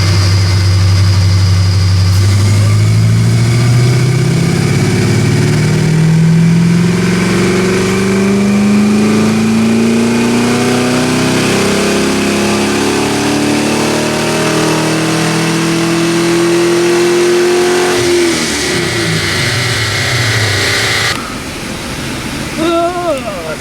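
An AMC AMX with a carbureted 304 V8 strapped to a DynoJet dyno climbs steadily in revs over about eighteen seconds, loud and close, then the throttle snaps shut and the engine drops back to a brief idle.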